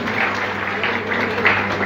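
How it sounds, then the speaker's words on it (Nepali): A crowd claps steadily throughout at a political welcoming ceremony for new Nagarik Unmukti Party members, a dense, even patter of many hands close by. "यहाँहरू सम्पूर्णले तालीबाट स्वागत गरिदिनु अनुरोध गर्दछु"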